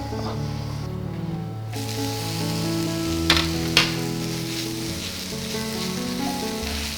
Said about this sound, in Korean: 후라이팬이 달궈졌는지는 이제 물을 뿌려보면 합니다